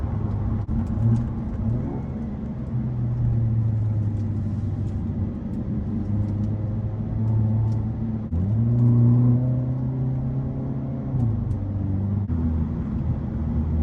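Hyundai Avante N accelerating hard on a race circuit, its engine note climbing steadily through the gears with brief dips at the shifts, loud and continuous with a rumbling low end and no talk.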